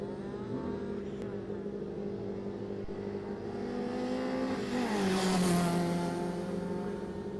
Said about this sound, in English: this man in the orange Peugeot 205 rear-wheel drive